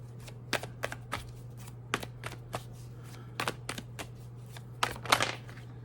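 Tarot cards being shuffled in the hands, a series of crisp riffling slaps and flicks coming in irregular bursts, close and fairly quiet, with no talking.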